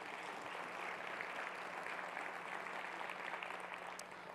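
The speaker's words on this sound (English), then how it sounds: "A round of applause for our key sponsors." A conference audience at the 2024 Detroit Policy Conference claps steadily, a dense sustained wash of applause from many hands that lasts throughout and tapers slightly at the end.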